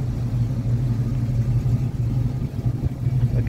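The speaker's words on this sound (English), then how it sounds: "It's got a nice throaty exhaust note to it." A 1986 Chevrolet K10 4x4 pickup with a non-factory exhaust idles with a deep, throaty, steady rumble, close and continuous, with slight pulsing and no talking.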